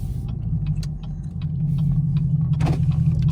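A Chevrolet Camaro 2SS idles nearby with a deep, steady rumble, holding a low throb throughout the short stretch with small clicks and rattles over it.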